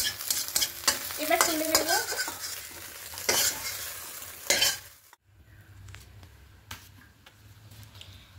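Two eggs with a pinch of salt are scrambled into bhujia in a kadai. There is loud, close spatula scraping and clatter over sizzling oil, then quieter stirring. Someone speaks briefly during the stirring.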